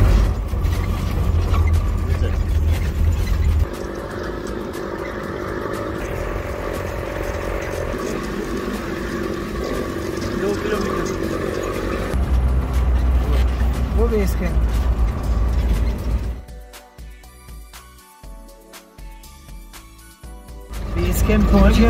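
Jeep grinding along a slippery, snow-covered mountain road toward a base camp, with a steady loud engine drone and mechanical rattling that briefly drops away near the end before returning.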